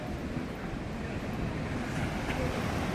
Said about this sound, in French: Il y a des vagues ici, hein.